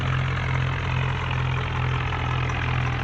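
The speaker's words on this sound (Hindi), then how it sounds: "फिर गोपी भैया अपना ट्रैक्टर निकालते हैं ट्रॉली जोड़ने के लिए" A tractor engine idles steadily close by, a constant low rumble with a droning hum that holds even throughout, with no talking over it.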